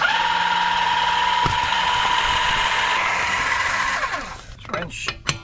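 A Seesii electric car jack whirs steadily as it lowers a car, a loud continuous motor drone that cuts off near the end, followed by a few clicks and clunks.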